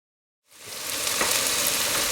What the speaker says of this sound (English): mix the onion, salt and pepper into the frying pan until the onion becomes brown.